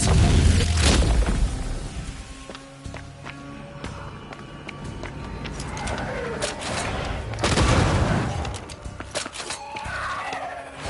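Spectre gunfire in the game Banishers: booming shots and impacts, a heavy blast at the start and another midway, over a busy combat bed with footsteps and scattered effects.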